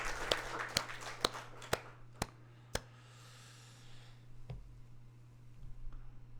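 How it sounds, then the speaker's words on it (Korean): A church congregation claps in a series of six sharp, evenly spaced beats that trail off into quiet room noise and a brief murmur. "우리에게 복된 말씀을 주시는 우리 하나님께 박수로 영광 돌리겠습니다."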